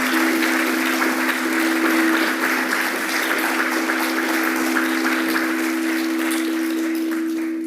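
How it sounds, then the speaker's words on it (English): Sustained audience applause fills a room at an award ceremony, a dense, steady wash of clapping that holds at an even level throughout, with no voices over it. "Another round of applause,"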